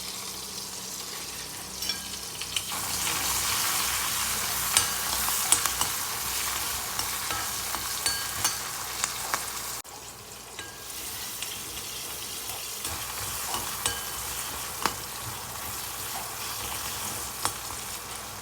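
Small onions (shallots) with a little salt fry in a pan while being stirred, giving a steady close sizzle with scraping strokes of the spoon. The sizzle briefly drops off partway through.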